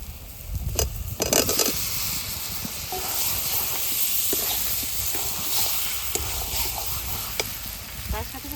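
Boiled potatoes tumble into hot spice masala, setting off a burst of clattering and scraping before a steady, close, bright sizzle with intermittent stirring scrapes.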